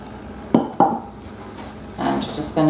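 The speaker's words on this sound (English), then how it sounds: "in goes the flour and the milk" Flour and milk go into a saucepan for a butterscotch tart, two sharp metallic clanks followed by softer scraping and clinking of utensils against the pan, close and brief.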